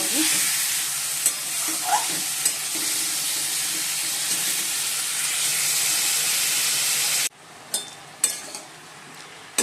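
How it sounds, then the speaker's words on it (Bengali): Spice masala with turmeric and tomato is stirred and fried in a pan, giving a dense continuous sizzle with faint spoon scrapes, then cutting to a quieter stretch with a few clattering stirs near the end. "ভালো করে মশলাটা কষিয়ে"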